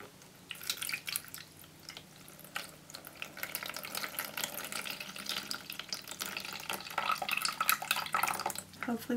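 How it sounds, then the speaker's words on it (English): Cloudy rice-rinsing water is poured out of a bowl, making a close, quiet stream of trickling and dripping splashes that build toward the end. "gonna pour this cloudy water out."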